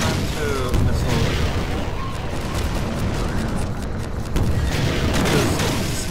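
A missile launch and explosions in Half-Life 2: Episode Two, with dense rumbling booms and mechanical noise running throughout and loud bursts near the start and end, and someone talking over it.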